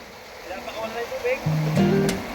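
Water rushes out of a fishpond as the gate is opened, a churning, steady flow that swells toward the end, with a person talking over it.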